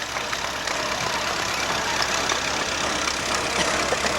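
An antique tractor engine idles at a heritage day festival parade in Chesterville, Ohio, a steady mid-level chugging hum holding evenly throughout with broad outdoor noise and no voices.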